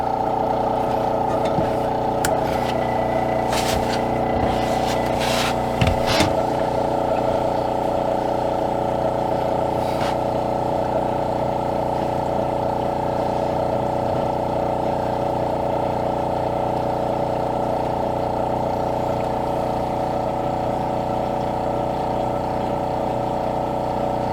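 A water pump runs with a steady mechanical drone and hum that holds unchanged throughout. A few clanks and knocks come near the start.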